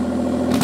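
Twin-turbo Mitsubishi Triton engine, built as a skid car, revs up over a steady idle with a strong low hum, rising in a brief push near the end of a short burst.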